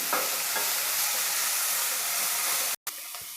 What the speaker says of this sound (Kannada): ಎರಡೂ ಸೇರಿಸಿ ಸಣ್ಣದಾಗಿ ಉರಿ ಇಟ್ಕೊಂಡು ಫ್ರೈ ಮಾಡ್ಕೊಳ್ತೀನಿ